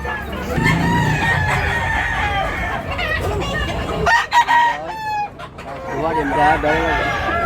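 A rooster crows loudly and close by at a rooster sale in Tabunok, Cebu, a long strained call followed by shorter hoarse crowing, with other birds clucking and chirping in the background.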